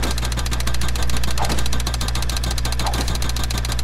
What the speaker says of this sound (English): the jackhammer makes it go by way quicker